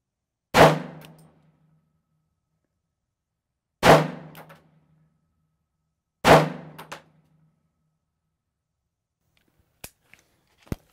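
Three sharp pistol shots fired at a target on a range, each a loud crack a few seconds apart with a short decay, followed by a couple of faint clicks near the end.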